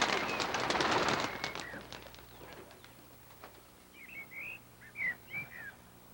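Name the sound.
pigeons cooing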